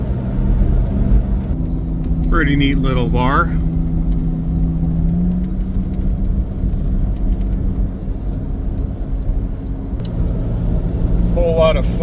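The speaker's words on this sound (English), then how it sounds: "you'll have to bear with me with the sounds of the road and the truck" Steady loud road noise and engine rumble from a truck driving on a highway, continuous throughout, with someone speaking briefly over it.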